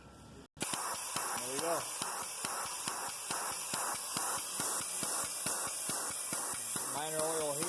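Air hoses on a punch press scrap shaker give repeated sharp hissing bursts in a steady rhythm, close and fairly loud, with a brief voice over the cycling mechanism.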